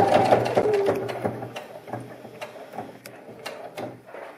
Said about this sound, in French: On repasse en point droit et on va coudre à 1 cm du bord